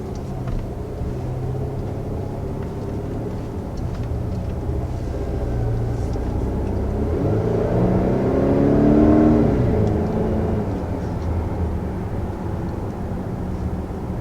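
A turbocharged 3-liter V6 in a 2020 Audi Q7 crossover SUV accelerates, its steady low engine rumble swelling as revs climb and peaking near the end before easing slightly, heard from inside with no talking.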